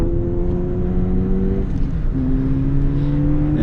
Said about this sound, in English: Let's go from 4th to 3rd to 2nd. Rev matching.